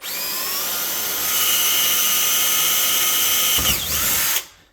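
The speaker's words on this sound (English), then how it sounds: "Start drilling." A power drill whines steadily at high speed while boring through aluminum, the pitch dipping briefly near the end before the motor spins down and stops.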